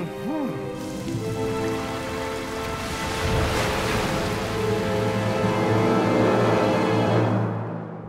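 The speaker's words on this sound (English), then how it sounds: "Oh, when will it ever stop raining?" Steady rain patters and hisses on surfaces, growing slightly heavier midway, with a low droning tone beneath and no talking.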